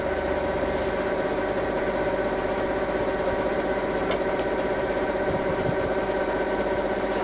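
A Jakobsen SJ 12 hydraulic surface grinder runs smoothly with its cross feed working, giving a steady, even mechanical hum with a few faint clicks and no talking.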